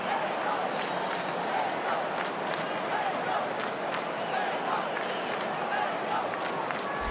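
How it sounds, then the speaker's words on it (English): Dense, steady crowd roar from spectators at an Australian rules football match during a goal celebration, continuous and fairly distant with scattered shouts and claps woven through the din. "The crowd's celebrating"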